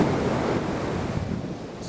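Sea waves wash onto the shore in a continuous, loud surf roar, with wind buffeting the microphone.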